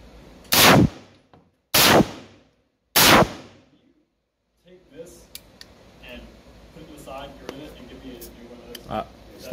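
Three loud, sharp gunshots from an FN P90 submachine gun in 5.7x28mm, spaced about a second apart, each ringing briefly, followed by a pause and then murmuring voices with clinks and clatter.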